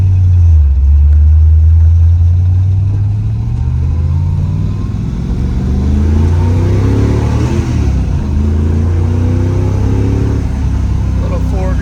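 A 1966 Shelby GT350 with a four-speed manual pulls hard while being driven, its engine roaring loud and close with a deep, rising throaty note that swells and dips through a curve as a voice talks over it.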